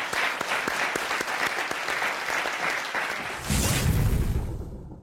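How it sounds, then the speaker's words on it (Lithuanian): A studio audience on the Lithuanian quiz show Lyderiai applauds a good question, with distinct claps in a dense, even stream that swells louder near the end before cutting off. "plojimai už gerą klausimą"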